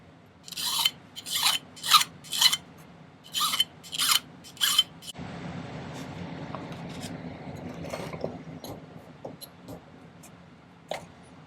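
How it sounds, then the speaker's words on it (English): A file rasps against a metal three-stone wide band ring in seven quick, bright strokes, then gives way to quieter scraping, rubbing and occasional clicks, close and without talk. "I'm going to spend a few minutes filing this"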